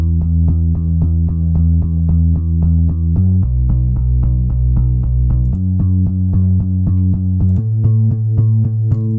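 Chopped bass notes built from the chords of a chill pop beat made in FL Studio, playing a steady rhythmic pattern that steps through several pitches, loud and alone with no talking.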